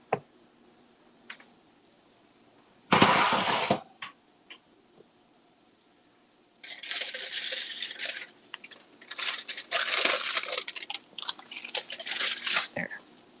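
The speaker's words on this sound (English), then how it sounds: "I got to get my dinner out of the oven." Dinner being taken from a home oven: clatter and rustling handling noises in separate bursts, with a sharp knock early on and a longer, busier stretch of clinks and shuffles toward the end, close by, with no talking.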